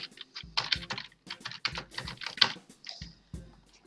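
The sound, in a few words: typing text on a computer keyboard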